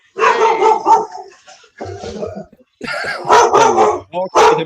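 Several dogs bark and yip in quick bursts, close and loud, with pauses between volleys and a few sharp yelps toward the end.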